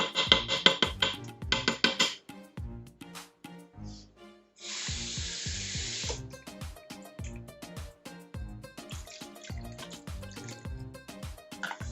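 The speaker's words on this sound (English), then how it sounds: "So that was 2 cups of water." About two cups of water are poured into a pressure cooker holding a lamb dish, making a brief hissing rush of about a second and a half amid scattered clinks and kitchen handling noises.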